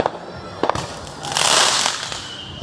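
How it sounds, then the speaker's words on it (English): Distant Juneteenth fireworks crackle and pop in bursts, building to a dense fizzing crackle before fading. "Fireworks, y'all hear them fireworks?"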